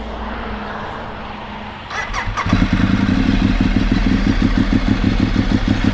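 A 2012 Ducati 848 Evo motorcycle engine cranks briefly, catches and fires up, then settles into a steady, loud, close idle with a lumpy rhythmic throb.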